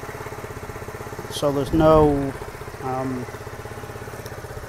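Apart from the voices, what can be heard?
125cc motorcycle engine idling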